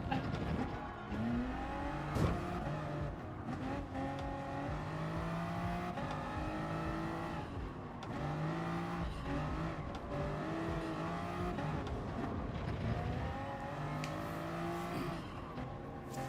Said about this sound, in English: I'm revving it out.